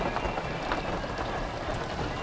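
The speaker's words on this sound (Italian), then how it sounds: "Piove un pochino" Light rain falls steadily outdoors, an even broadband patter with no pauses, close and moderately loud throughout.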